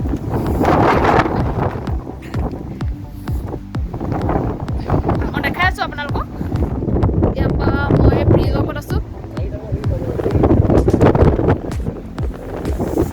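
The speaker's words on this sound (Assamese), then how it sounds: "ইমান বতাহ মাৰিছে চাগে মোৰ ভইচ কোৱালিটি আপোনাৰ ভাল নহ'ব" Strong gusty wind buffets the microphone with heavy low roaring while a person talks close by throughout, outdoors on a trip to Parasuram Kund.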